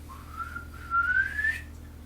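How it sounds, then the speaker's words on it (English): A thin whistling tone inside a house rises slowly in pitch over about two seconds, faint and alone against a quiet low hum. "I hear a whistling."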